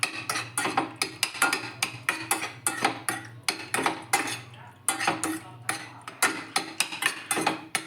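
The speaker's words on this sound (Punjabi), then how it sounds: "ਫਿਰ ਆਪਾਂ ਨੂੰ ਪਾਸਤੇ ਨੂੰ ਕਰ ਲਾਂਗੇ ਮਿਕਸ" Cooked, drained pasta being mixed into sauce in a pan for an Italian pasta dish: a steady, rhythmic clinking and scraping of a utensil against the pan, close and fairly clear.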